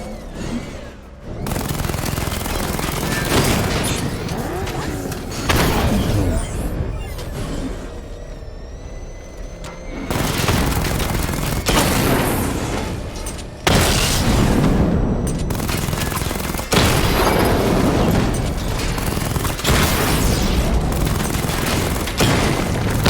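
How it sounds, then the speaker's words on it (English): Repeated Batmobile missile barrages in Batman: Arkham Knight, with heavy booming explosions and rapid gunfire-like volleys coming in loud bursts separated by short pauses, and no voices. "Charge up missile barrage to level 2 and destroy 4 active targets to complete diagnostic test."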